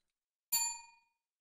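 A single bright bell ding rings out cleanly from silence, its metallic tone ringing on and decaying smoothly over about half a second.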